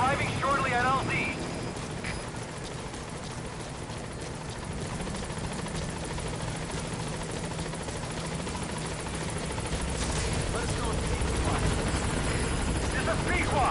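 A helicopter from the Metal Gear Solid 5 video game comes in to land, its rotor drone and engine roar continuous and loud throughout, with radio-style speech over it.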